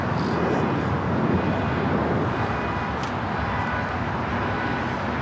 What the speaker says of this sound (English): The Singapore 777 as well as the Streamliner, both heading to 25 right for Southside takeoffs.